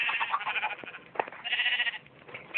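Sheep in the Minecraft video game bleat repeatedly in a steady run of wavering, nasal calls, fairly close and clear, with no talking over them.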